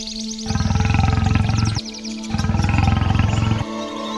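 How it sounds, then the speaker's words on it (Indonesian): Two long, deep roars from a man-eating lion or tiger in a dramatized Islamic story about Habil and Qabil, each swelling and sustained with a rough, pulsing growl, loud and close, with no speech. "Aku yakin itu singa atau harimau pemangsa manusia."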